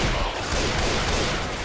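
Gunfire in Left 4 Dead 2 makes a dense, continuous roar of overlapping shots, loud and unbroken for the whole short stretch.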